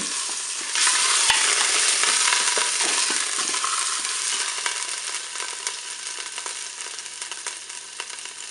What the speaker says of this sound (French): on fait dorer sur toutes les faces de notre rôti